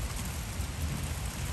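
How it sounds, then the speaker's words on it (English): Heavy rain falls steadily during a Texas thunderstorm at a base camp, a loud, continuous hiss with a low rumble beneath and no talking. "And the rain is coming down"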